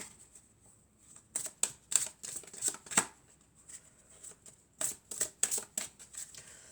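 Tarot cards being shuffled and cut by hand, a quick series of crisp riffling bursts in two clusters with short pauses between, close and fairly loud with no talking.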